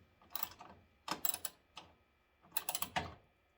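Bolts being tightened on a 1991 Ford Ranger radiator, heard as bursts of close, quiet ratcheting clicks separated by short pauses.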